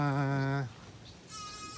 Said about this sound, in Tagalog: Yan po, yung mga kambing na nakikisilong.